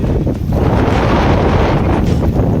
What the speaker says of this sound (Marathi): आवाज पण तुम्ही ऐकू शकता थोडा वारा